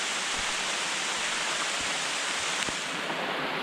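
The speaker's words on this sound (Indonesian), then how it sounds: "hujan lagi" Heavy rain falls on a mountain trail on Ciremai, a dense, steady hiss with occasional faint thumps, loud and unbroken throughout with no talk.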